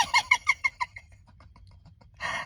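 Clucking chickens outdoors give a quick run of about six sharp, evenly spaced calls, then fade to faint scattered clucks before a burst of louder squawking at the close.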